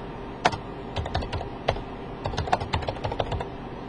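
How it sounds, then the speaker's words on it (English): Computer keyboard typing during a prepress software demonstration, with irregular clusters of crisp key clicks at close range and brief pauses between bursts, no voices. "We can now type in what we did to the PDF."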